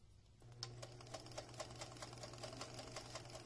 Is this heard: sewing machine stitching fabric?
yes